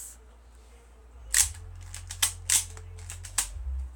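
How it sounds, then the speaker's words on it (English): Nerf gun fired indoors, a few sharp close clicks and snaps over a low background hum, about four quick shots with no talk. "I'll shoot you with this Nerf gun, bro."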